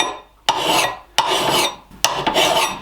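An axe blade is worked with a coarse bastard-cut file in three long, harsh rasping strokes, each with a sharp start and a gradual fade, close and loud with short pauses between.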